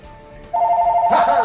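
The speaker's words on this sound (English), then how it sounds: "stupid phone's ringing" A telephone bell starts ringing partway through, a loud, steady electronic trill that holds to the end, with a short burst of talk underneath near the finish.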